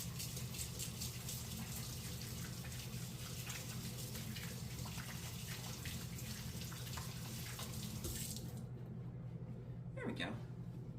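Tap water runs steadily into a sink as greasy hands are washed after making peanut butter cookie dough, a continuous close gush that cuts off near the end, followed by a brief squeak.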